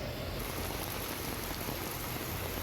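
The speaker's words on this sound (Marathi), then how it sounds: "कल्याण, डोंबिवली, ठाण्यात मुसळधार पाऊस सुरू आहे" Heavy monsoon rain over Kalyan, Dombivli and Thane, a dense, steady hiss of downpour that stays loud and unbroken throughout.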